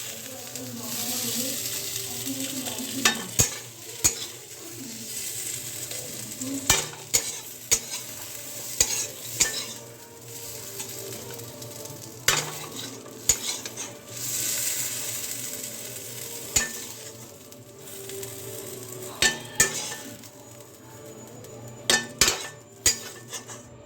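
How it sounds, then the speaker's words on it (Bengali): Fried potato and papaya pieces stirred and lifted from a sizzling pan of oil, with steady frying hiss under repeated sharp spatula scrapes and clicks against the pan, close up and with no talk. "তো এই দেখো আলু পেঁপেটা ভেজে নিয়েছি আর তুলে নিচ্ছি।"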